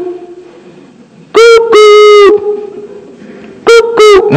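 A human voice imitates a cuckoo call, giving two loud two-note hoots, one pair after the other with a pause between, close and clear over faint background hiss.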